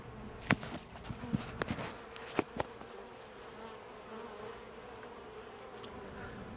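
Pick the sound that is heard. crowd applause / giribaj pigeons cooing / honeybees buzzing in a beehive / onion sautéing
honeybees buzzing in a beehive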